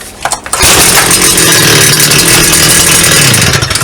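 Stihl FS 250 brush cutter with a two-stroke engine catching after a brief rattle and then running loud and steady, close by, with no talk over it.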